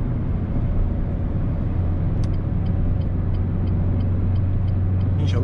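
Inside a moving Renault Clio 3 with a 1.2 naturally aspirated engine and automatic gearbox, a steady engine drone hums continuously as the car is driven, with a few faint ticks near the end.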